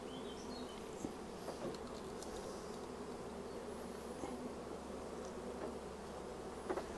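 Honeybees hum steadily around an open beehive, a continuous low buzz that stays even and moderately close throughout, with a few faint clicks and shifts but no talking.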